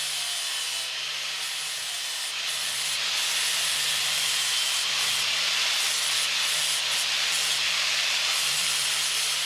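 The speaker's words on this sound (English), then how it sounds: "Let's firstly clean it up and grind this side of the frame." Metal grinding on the side of a handmade tattoo machine frame, a steady, loud, hissing abrasive rasp that runs continuously throughout with slight dips in pressure.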